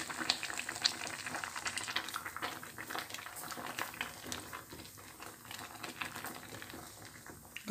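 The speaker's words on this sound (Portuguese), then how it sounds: "Agora eu vou deixar ela cozinhar bem, secar essa água para depois apurar o doce." Pumpkin simmering in its own water in a pot while being cooked down for a sweet, giving a steady bubbling, sizzling boil with faint stirring scrapes throughout, close by and moderately quiet.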